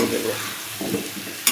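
Spices sizzle as they are stirred while frying in a pan, a steady hiss with a couple of soft scraping strokes and a short sharp scrape at the end.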